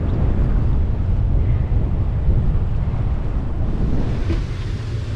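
Strong wind buffets the microphone in a constant low roar on a sailboat transiting the Panama Canal, with a wash of sea noise underneath and no voices.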